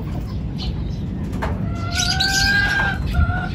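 A racing pigeon flaps its wings entering its loft, a short burst of flutter near the mic amid outdoor noise and brief bird calls, with someone talking.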